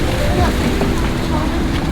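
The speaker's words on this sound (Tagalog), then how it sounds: "Sobrang maalon pala today guys, kaya ang hirap mag-balance dito sa may docking area" Rough sea churns around an island boat docking area at Boracay, a loud, steady wash of water mixed with buffeting wind on the microphone, with no break.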